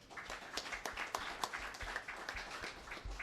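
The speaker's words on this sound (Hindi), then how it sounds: "इनके लिए जोरदार तालियां।" An audience at an awards ceremony in Aurangabad claps steadily, a dense patter of many hands that holds at a moderate, somewhat distant level throughout.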